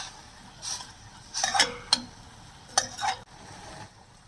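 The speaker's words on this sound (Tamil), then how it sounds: "கல் உப்பு சேர்த்துக்கிறேன். கூடவே கொஞ்சமாக டர்மரிக் பவுடர், மஞ்சள் தூள் அதையும் சேர்த்துக்கலாம். சேர்த்து வதக்கி விட்டுக்கலாம்." A spoon stirs a pan of sautéing ingredients with rock salt and turmeric powder for a lentil and greens curry, giving a few quick scraping, clinking strokes over a faint sizzle, with no talking.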